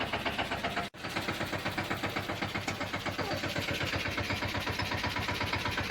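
A tractor engine idles nearby, a loud steady chugging rumble with an even rapid beat throughout and no talk.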